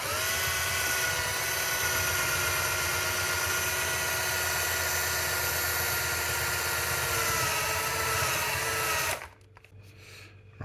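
A drill bores out a screw in a damp early Sony Vaio PCG-747 laptop, a loud continuous high-pitched whine with grinding, held steady for about nine seconds before cutting off abruptly into quiet clatter.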